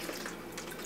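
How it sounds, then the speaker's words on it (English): Fruit wine is poured into leftover au jus, giving a brief soft trickle and faint splashing of liquid. "I'm going to pour a little wine in it."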